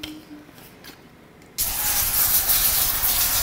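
Cooking spray hisses from an aerosol can onto a pan for protein-sparing tortilla dough, a sudden loud, steady spray starting about halfway through and holding to the end after a quiet start.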